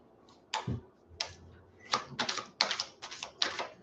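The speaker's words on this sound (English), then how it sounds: "Let's shuffle again." Several quick bursts of riffled cards, crisp rapid flutters in a rhythmic sequence, close up with short pauses between.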